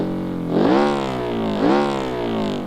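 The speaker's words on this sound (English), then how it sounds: "I wonder if we got right next to the exhaust, how it'd sound" Rear-mounted car engine in BeamNG.drive heard up close at the exhaust, rising in two loud revving surges with a throaty, harmonic growl and no voices.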